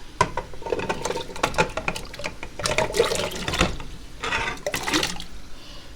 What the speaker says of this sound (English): I'm just going to add these to the water